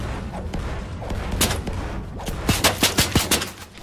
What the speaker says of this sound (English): Shooting it.